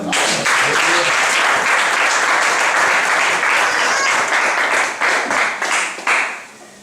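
A church congregation applauds the Lord during a sermon, a loud, dense burst of clapping that holds steady for several seconds before breaking up and fading at the end.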